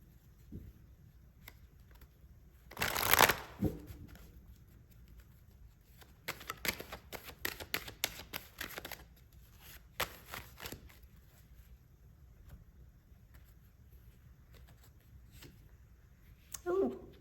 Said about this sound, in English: let's pull some angel cards.